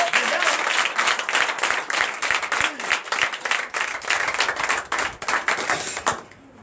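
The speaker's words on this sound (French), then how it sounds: "Donnez encore de acclamations." A church congregation at a night deliverance and prophecy service applauds in a long, crisp, sustained round of many hands, fairly close, with faint voices underneath before it cuts off near the end.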